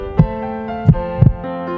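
A fast heartbeat of three close, low thumps over a sustained musical hum, loud and isolated with no talking.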